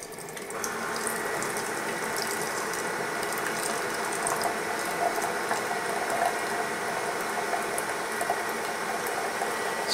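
A Keurig single-serve pod coffee maker brewing a medium cup, giving a steady, loud hissing and gurgling churn with a faint mechanical rattle that holds evenly throughout.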